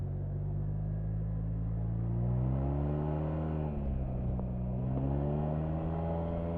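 A Yamaha TMAX 560 Tech Max maxi scooter engine pulls hard under acceleration, a steady loud drone whose pitch rises, dips briefly, then climbs again, heard close and continuous with no talking.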